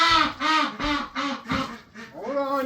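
Several ducks quack loudly in a barn, a rapid run of about seven nasal calls close by, with no talk over them.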